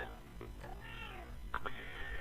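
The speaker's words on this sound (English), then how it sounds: "you hear the cat?" A house cat gives a faint, brief meow over a steady background hum while nearby voices talk.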